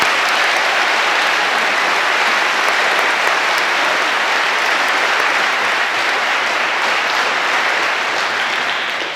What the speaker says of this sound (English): Go ahead, applaud them.